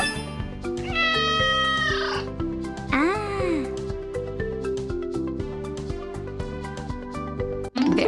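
A kitten meows repeatedly over a bright, steady musical backing, with one long rising and falling meow standing out in the middle. The cries are close and clear.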